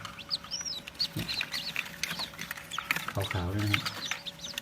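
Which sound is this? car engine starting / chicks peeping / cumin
chicks peeping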